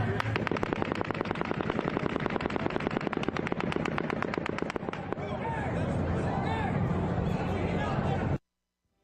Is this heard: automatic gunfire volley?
yes